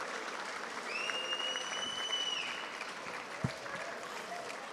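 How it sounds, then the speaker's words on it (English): Applause from an audience at a FIRST Robotics team induction ceremony fills the room as a steady, moderate wash of clapping, with a faint tone heard partway through. "please make another round of applause for Ms. Rodriguez."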